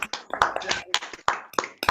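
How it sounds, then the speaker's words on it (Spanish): Scattered hand claps from a few people over open microphones at an online psychoanalysis forum, sparse and uneven rather than a full ovation, fairly close and moderately loud with no talk. "así le damos un aplauso"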